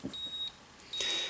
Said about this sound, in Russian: будет всегда срабатывать звуковая сигнализация